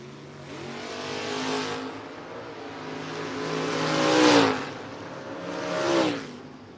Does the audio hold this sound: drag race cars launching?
yes